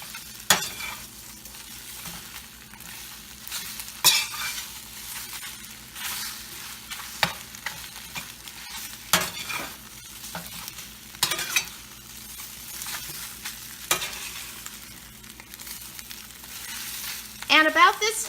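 Eggs frying on tortillas in a pan, a low continuous sizzle broken by repeated sharp scrapes and thumps as the food is tossed and stirred, close by, with no talking.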